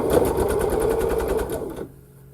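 A sewing machine runs close and loud along a quilt seam for a Frayed 4-Patch sampler block, its fast rhythmic needle strokes whirring steadily before stopping abruptly into near quiet.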